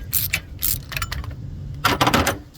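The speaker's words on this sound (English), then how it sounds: "down there where I have the socket onto that bracket. See, loosen it up." Socket wrench loosening a bracket bolt on a 2007 Cadillac STS during intake manifold removal, a few quick ratcheting clicks in short bursts, close and clear.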